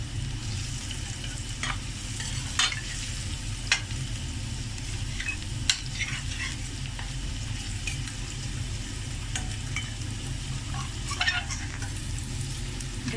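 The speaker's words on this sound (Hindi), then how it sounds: "डेढ़ से 2 मिनट हम इसको फ्राई करेंगे" Mutton karahi with onion paste fries on a high flame, a loud close sizzle with repeated scraping stir strokes of the spatula, continuous throughout with no talking.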